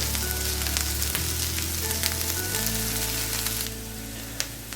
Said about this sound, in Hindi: ये देखिए अल्हम्दुलिल्लाह हमारी जो वेजिटेबल्स हैं वो फ्राई हो रही हैं।